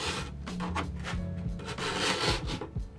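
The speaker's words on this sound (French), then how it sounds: "on cale bien l'outil contre la planche de manière à ce que la lime soit bien calée et on appuie." Hand file pressed against a snowboard's metal edge on a bench, scraping in a series of short, close, gritty rasping strokes with no talking.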